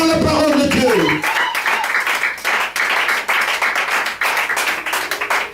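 A church congregation bursts into dense applause that sustains for several seconds, many hands clapping at once, following a speaking voice at the start.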